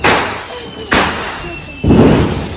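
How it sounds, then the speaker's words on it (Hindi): Diwali firecrackers go off in sharp, loud bursts, three in quick succession, close by with short echoing decays. "गाइज इस बार हम पटाखे भी जला रहे हैं"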